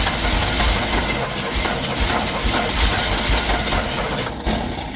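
An old Chevrolet squarebody truck, parked for 19 years, is cranked over and over without starting, giving a loud, continuous, rhythmic churning from the starter and engine that runs the whole time, close by.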